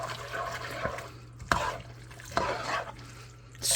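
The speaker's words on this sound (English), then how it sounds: "Getting a little bit more water. That's like a half a cup of water." Water poured into a pasta sauce while cooking an Alfredo dish, a continuous splashing, gurgling pour with a steady hum underneath and a few clinks, close by.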